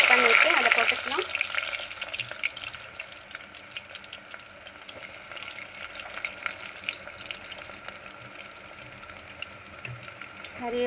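Chopped large onion hits a hot pan for neem-flower vatha kuzhambu, giving a sharp burst of sizzling that settles into a soft, steady frying crackle with light stirring.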